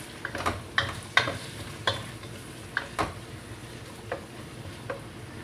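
Pork frying in a pan for Filipino lumpiang hubad, with a steady low sizzle broken by several sharp scraping stirs of a utensil against the pan, close and fairly quiet, no talking.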